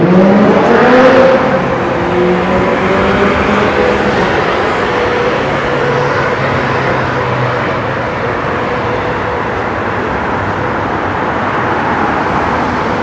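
A loud modified car on a downtown Toronto street at night roars up close with a revving engine, then fades into a lower, sustained rumble of passing traffic.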